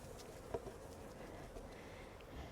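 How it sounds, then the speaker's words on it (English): Honeybees are shaken off a hive's inner cover back into the box, leaving a faint, close buzzing hum of insects with one soft thump partway through, quiet and continuous, with no talk. "we're going to shake them back into the hive like this"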